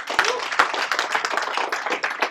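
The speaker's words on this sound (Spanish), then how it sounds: "Denle un aplauso a Cristo" Congregation applause during a church service, a short burst of many hands clapping, fairly close and brisk with a few sharp individual claps standing out at the start.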